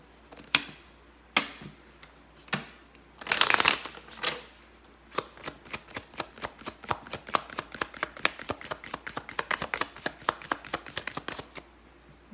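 Tarot cards are shuffled by hand, starting with a few sparse flicks and a brief riffling burst, then a long run of rapid, crisp card slaps building in pace, close and clear with no voices.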